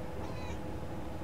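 Cat meowing in the video game Murdered: Soul Suspect, set in a psychiatric hospital, a single drawn-out meow over a loud, constant game background hum.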